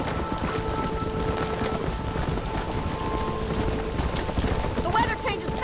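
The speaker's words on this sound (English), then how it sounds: "This storm came out of nowhere." A rainstorm in the video game Red Dead Redemption: steady heavy rain hiss with low rumbling and a rhythmic clopping of hooves, constant and fairly loud, with faint tonal sounds drifting through.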